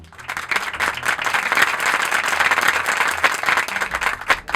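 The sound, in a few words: audience applause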